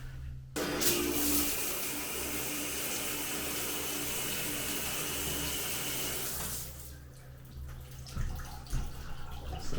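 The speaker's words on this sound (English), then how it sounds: "So let's see, shower test." A hotel room shower runs at an inn in Bicknell, Utah, a loud steady hiss of spraying water that starts abruptly and stops after about six seconds, leaving faint room noise.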